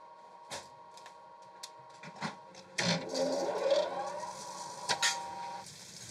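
Fabric is cut with dies for clasp purse parts in a Kyoto workshop: scattered sharp clacks and thumps over a steady low machine hum, with a busier stretch of cutting in the middle.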